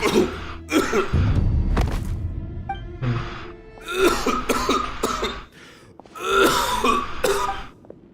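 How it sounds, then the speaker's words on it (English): Old man Balmoon in Genshin Impact coughs in several hacking, rasping bursts with throat clearing and strained breaths between them, loud and close with pauses. "Why is he coughing so much?"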